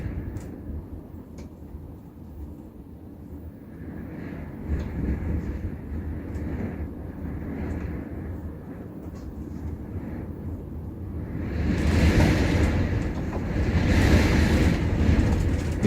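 Strong wind blows across an outdoor garden as a continuous broadband rush, swelling into louder, closer gusts toward the end, with no voices.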